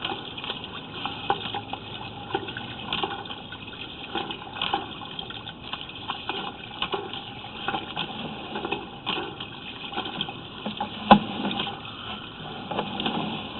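Muddy water washing into a broken sewer line, a continuous muffled gushing and trickling flow, steady and close, with a brief knock near the end and no voices.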